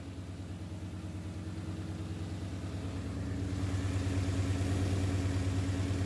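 A brand-new 5.0 crate V8 idles in an S550 Mustang with a steady, rumbling low burble close by, growing slightly louder and fuller partway through, and no voices.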